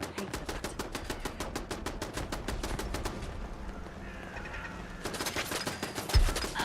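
Rapid automatic turret fire in the video game Fallout London, a fast even burst of sharp shots, a short pause with quieter sounds, then another burst of gunfire.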